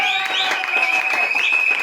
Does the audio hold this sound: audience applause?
yes